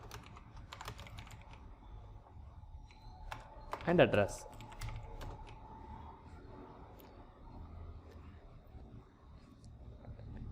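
Typing on a computer keyboard: steady rapid key clicks run through most of the stretch, with a brief louder burst partway in, while a voice speaks softly over them.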